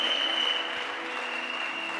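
Dense, steady applause from a church congregation, a continuous wash of many hands clapping at once with no pauses, loud and close.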